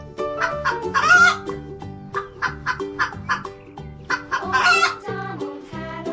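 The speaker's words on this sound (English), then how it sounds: "White color hen." A white hen clucks repeatedly in a steady run of close, clear calls, with a couple of louder squawking bursts, and no voices over it.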